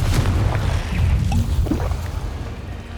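The Confringo blasting spell goes off in Hogwarts Legacy, a booming burst with a rumbling tail that fades over a few seconds.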